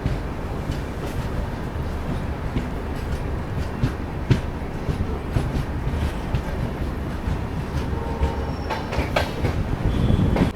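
A train hauled by a diesel locomotive, the Palace Queen Humsafar Express, rolls along in a continuous broadband rumble with faint rail clatter and occasional clicks, steady and fairly close throughout.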